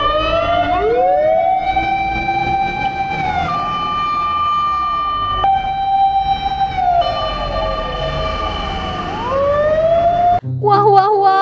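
A fire truck siren wails loudly and close, rising and falling in long sweeping tones, with a second siren pattern overlapping and a brief change in tone near the end.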